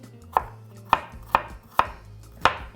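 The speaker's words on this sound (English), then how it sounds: "gonna give it a nice mince" A knife mincing onion on a cutting board, five sharp, evenly spaced chops landing about every half second, close and crisp, with no talking.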